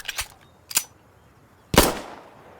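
Weapons fire in Insurgency Sandstorm: three sharp, close gunshots, two quick cracks early and a louder one with a brief ringing tail, separated by short silent gaps.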